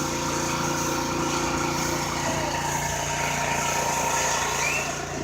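Pressure washer cleaning a sidewalk at the Oklahoma City Zoo, a steady droning engine hum heard from a distance under outdoor ambience, with no talk.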